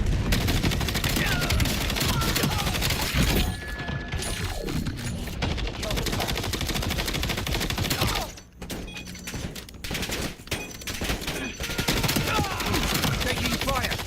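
Call of Duty gameplay gunfire, dense and loud, with sustained rapid bursts that barely let up, a short lull near the middle, then heavy shooting again.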